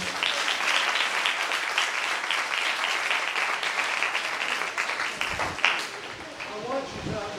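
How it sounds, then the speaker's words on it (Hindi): A church congregation bursts into loud, sustained applause during a sermon, dense clapping filling several seconds before thinning out as a preacher's voice returns near the end. "यस, जोरदार तालियां खुदा के जलाल के लिए।"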